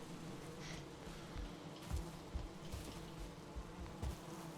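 Bees swarm around a beehive in a video game, a steady droning buzz that fills the whole stretch, with faint soft thuds now and then and no voices.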